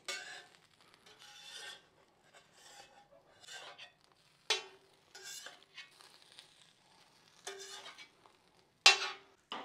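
Burger buns roasting in a pan, giving soft scraping, rubbing and light sizzling sounds in short separate bursts, fairly faint against a quiet background with no talking.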